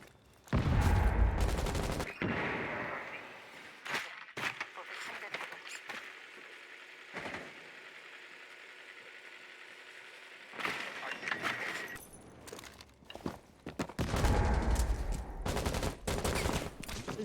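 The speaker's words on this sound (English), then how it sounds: "Please stop shooting, I beg you." Bursts of automatic gunfire in Rainbow Six Siege, loud volleys at the start and again near the end with a quieter stretch between, mixed with game sounds and a voice talking over it.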